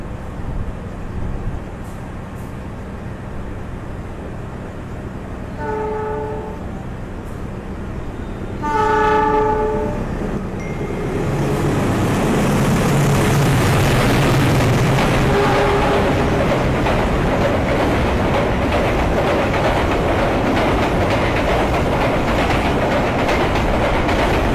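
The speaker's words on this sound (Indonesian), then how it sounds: "Akan melintas langsung di jalur 1 di sini merupakan kereta barang." A freight train of tank wagons runs straight through a station on track 1, sounding two horn blasts before a loud, sustained roar and rattle of wagons passing close by.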